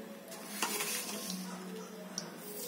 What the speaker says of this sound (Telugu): ఒక బాండీ పెట్టుకొని ఆయిల్ వేసుకొని ఒక చిటికెడు మెంతులు